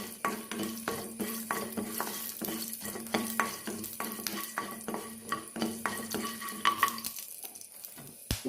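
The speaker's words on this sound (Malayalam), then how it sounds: "നന്നായിട്ട് മൂക്കണം ആ ഒരു പാകത്തിന് വറുത്തെടുക്കാം" Spices dry-roasting in a pan for a jackfruit kootu curry, with a steady run of scraping stirs and light sizzle ticking along for about seven seconds before it drops away, no voices.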